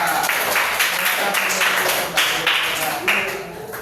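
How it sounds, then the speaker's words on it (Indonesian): Classroom of elementary students clapping for a group after their presentation, loud bursts of hand claps mixed with children's voices and chatter. "Tepuk tangan untuk kelompok 2."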